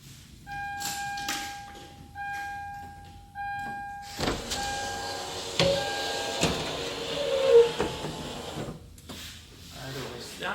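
Electric window motor on a Toyota 4Runner rear hatch, run with the ignition on, whirring as the glass lowers and then rises again, a steady mid-level mechanical hum broken by a few clunks, with a voice speaking over the start.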